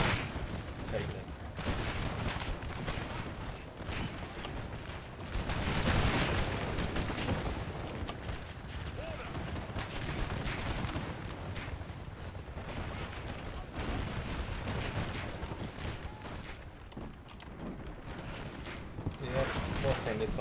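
Cannon and musket fire rumble through a Napoleon: Total War battle as British artillery pounds the French, a dense, continuous barrage of booms and crackling volleys, with a voice talking over it at times.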